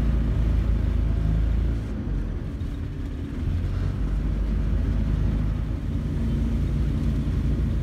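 Renault car fitted with a 670 cc Predator V-twin engine, running steadily as it shifts up through its gears, a loud continuous low rumble with brief dips between gear changes, no talking.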